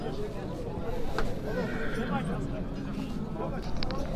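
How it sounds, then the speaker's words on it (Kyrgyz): A horse whinnies loudly and clearly amid the busy crowd at the Özgön horse market in Kyrgyzstan, with people talking and a steady bustle throughout. "Негизинен өтө сонун жылкы экен"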